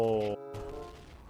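A grenade bursts in a video game with a loud, broad blast that rolls out and fades, following sustained tonal game sounds that cut off just before it.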